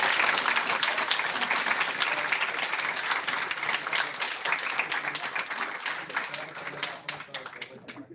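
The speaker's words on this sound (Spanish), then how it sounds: "regálenos un fuerte aplauso, por favor." An audience at a university conference in Spanish claps loudly and steadily for about eight seconds, the sound slowly thinning toward the end, with faint voices mixed in.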